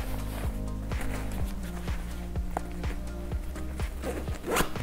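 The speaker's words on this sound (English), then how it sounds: "Zip it back up." A zipper being pulled closed on a Wandrd VEER 18-liter packable backpack, a steady run of close, rapid ratcheting clicks with a louder rasp near the end.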